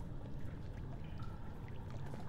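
Water rushing in to fill a dam area in Amnesia: The Dark Descent, a steady low pouring and churning wash, moderately faint and continuous with no talking.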